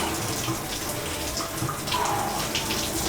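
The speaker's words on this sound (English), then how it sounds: "It's the classic cold shower." A cold shower runs in a steady, close rush of spraying water, a continuous hiss that carries through with slight splashing variation.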